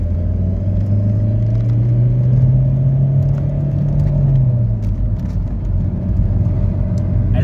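A Peugeot 306 Break 2.0 HDi 90 diesel on aluminium Cyclone wheels and new tyres cruising on the road, heard from inside as a loud, steady low rumble with an engine tone that rises and falls once.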